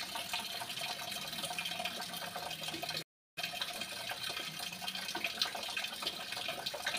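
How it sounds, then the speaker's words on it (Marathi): Water runs steadily from a bathroom tap in a Konkan village home, a continuous close splashing stream that drops out briefly for a moment before resuming just as loud. "बाथरूममधला नळ चालू करते आणि मग बघूया पाणी खाली कुठे पडतंय"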